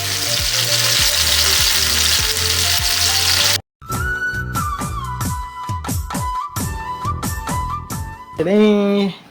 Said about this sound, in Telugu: చేపలు వేపాలి, చేపలు చేశాను